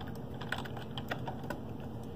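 Keyboard and mouse clicks from someone playing Fortnite on a computer: quick, close, irregular taps and clicks in short bursts, with no talking.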